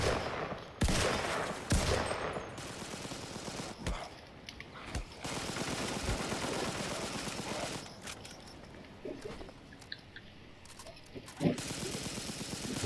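Gunfire in the online shooter CRSED: bursts of automatic fire and single sharp shots, some close and loud and others farther off, scattered unevenly across the whole stretch with no speech.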